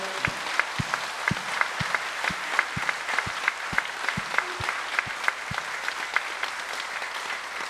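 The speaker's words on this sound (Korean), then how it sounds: "여러분, 웃음을 주신 하나님께 감사와 영광의 박수." Church congregation applauding during a sermon, a broad bed of clapping with sharp, regular strikes running through it in a steady rhythm, close and sustained for several seconds.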